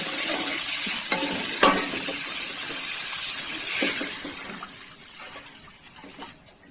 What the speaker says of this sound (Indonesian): Ini kita aduk sampai berubah warna ya, seperti ini.